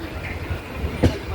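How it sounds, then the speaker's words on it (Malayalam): A mostly non-stop passenger train rolls along inside the carriage, with a low steady rumble and a single sharp clack of wheels over a rail joint near the end. "നോൺ സ്റ്റോപ്പാണ് ഈ ട്രെയിൻ കൂടുതലും"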